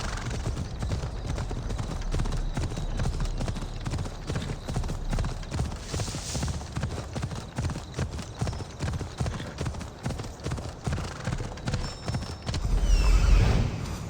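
Horse hooves clip-clop steadily and up close in the Assassin's Creed Odyssey game world, a continuous trotting rhythm over ambient wind, with a brief whinny-like burst near the end.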